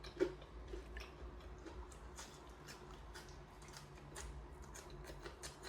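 Close, faint crunching comes from bites of a crispy fried Chicken 65 piece, with small clicky chews in an irregular rhythm over low room noise.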